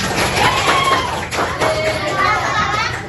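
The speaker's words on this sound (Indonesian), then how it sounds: "Boleh beri tepuk tangan untuk kita semua." Children in an elementary school classroom clap and cheer together in a lively burst, with busy chatter and a few loud taps mixed into the steady crowd noise close by.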